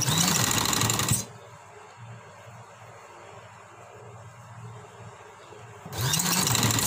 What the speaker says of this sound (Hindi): इधर से सिलाई को स्टार्ट करें